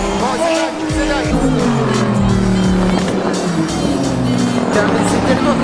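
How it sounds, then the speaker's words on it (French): Race cars roar around the 24 Hours of Le Mans circuit, loud and continuous engine noise with rising and falling pitch as cars pass, with people talking over it. "On va voir la voiture qui roule derrière moi"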